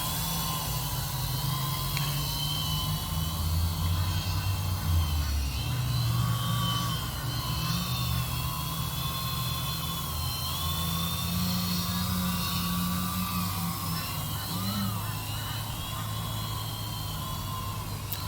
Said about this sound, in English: you can see it's a very nice stable aircraft to fly